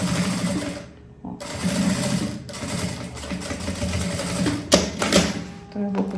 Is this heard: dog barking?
no